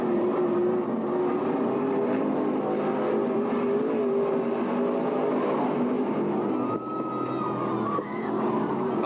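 Modified race cars circle the track at the Shipwreck Beads Modified Nationals opening night in 2003, a steady roar of engines from several cars at mid distance with no speech over it.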